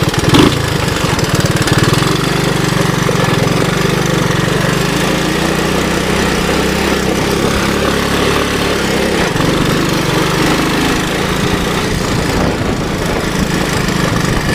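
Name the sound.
1981 Honda 185S motorcycle engine running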